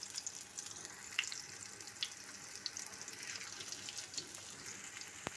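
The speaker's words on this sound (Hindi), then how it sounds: "ये हमारा ऑयल गर्म हो चुका है। अब हम इसमें ये अपनी टिक्कियाँ रख देंगे।" Chicken chapli kebab patties fry in hot oil with a steady, close sizzling hiss and scattered sharp crackles and pops, without any voices.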